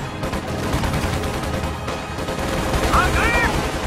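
Battlefield gunfire from Company of Heroes 2, dense overlapping shots and bursts rattling close and loud throughout, with shouted voices mixed in.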